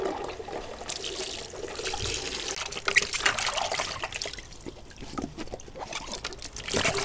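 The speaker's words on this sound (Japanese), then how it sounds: "すすぎですね、次は。" Shoes being rinsed by hand in water: continuous close sloshing and splashing with small trickles and drips, moderately loud and uneven, with no voices.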